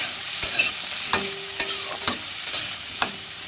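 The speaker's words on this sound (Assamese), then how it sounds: "এইখিনি তেলত দি দিছোঁ। ভাজি ল'ম" Onions fry in oil in a pan with a steady, close sizzle, while a spoon stirs through and strikes the pan in sharp clinks roughly every half second. Nobody talks.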